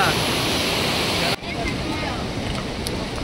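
A waterfall of cold water at a picnic spot roars loudly and steadily, a dense broad rush that dips for an instant before carrying on.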